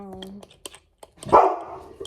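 A pet dog gives a single loud, close bark near the end, preceded by short clicks and a brief voice in an indoor room where slime is being made.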